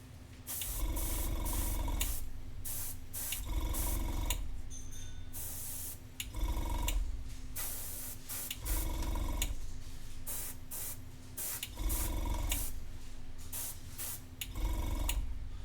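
Short bursts of an airbrush spraying masking product, a hissing spray repeated about seven times in an even rhythm with a faint steady compressor tone between bursts, close and clear with no talk.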